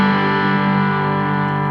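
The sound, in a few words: guitar through Green on Green overdrive pedal, Blue Side engaged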